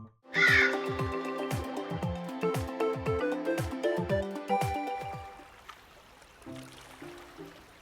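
A crow named Mephisto perched at a windowsill in a video game scene, giving a run of rhythmic caws set over soft game music, loud and close, then fading out as the music carries on alone.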